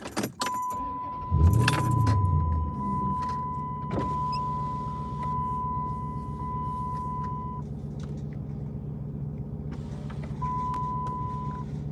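A car is started again and its engine idles steadily, with a low rumbling hum and a few brief clicks and rattles. A long electronic chime tone runs through much of the stretch. No one speaks.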